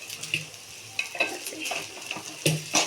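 Rice mixture stirred in a pan with a spoon, giving intermittent scraping and clinking strokes in short bursts over a quiet, light sizzle; no talking.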